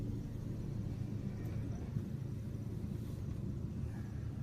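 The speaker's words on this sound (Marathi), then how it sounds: "बघा तुम्ही, आता ट्रॅफिक लागलंय." Road traffic stuck in a jam gives a low, continuous rumble of idling and creeping vehicles, steady and fairly faint, with no talking.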